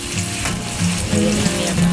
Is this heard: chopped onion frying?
yes